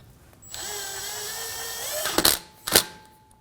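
A power tool drives a rotor screw on a rear brake of a Honda Pilot, whirring close up for about a second and a half before two sharp bursts as the screw seats.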